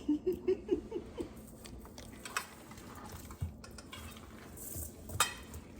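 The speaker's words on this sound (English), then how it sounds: "you want to get your pork mixed in with your ground beef extremely well" Ground pork and ground beef being worked together by hand in a bowl for cabbage rolls, a soft, close squelching and patting with a few sharper clinks against the dish, mostly faint with no talking.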